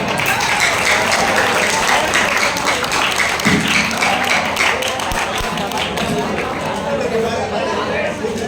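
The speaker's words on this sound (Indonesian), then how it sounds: "Tepuk tangan untuk kita semua." Steady applause from an audience at a Maulid Nabi religious gathering, dense and continuous from start to finish, with voices chattering underneath.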